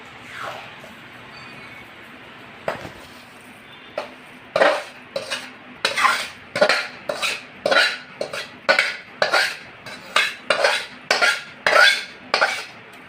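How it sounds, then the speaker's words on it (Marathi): Cooled masala being mixed into mango pieces for pickle, heard as a near, rhythmic series of scraping, clattering strokes of a spoon against a metal bowl that start sparse and then repeat steadily about twice a second. "मिक्स करून घेऊया"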